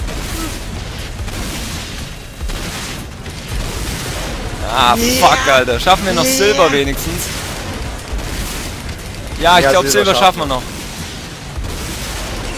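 Explosions and rumbling booms in the video game Saints Row: Gat out of Hell form a continuous low blasting background, while someone talks over it in two bursts.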